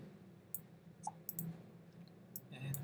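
Mouse clicks on a computer during a Windows XP installation in Parallels on a Macintosh, a few sharp, faint clicks scattered at irregular intervals over quiet room tone.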